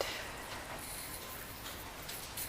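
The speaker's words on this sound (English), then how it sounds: "raining" Rain falls steadily outdoors on hoya vines and other plants, a soft continuous hiss of drops with faint ticking patters on leaves, fairly quiet and even throughout.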